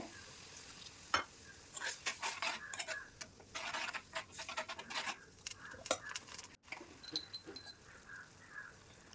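A spoon scrapes and clatters around a pot of squid roast cooking in Kerala style, in repeated bursts, with a soft bubbling sizzle underneath, close and fairly quiet.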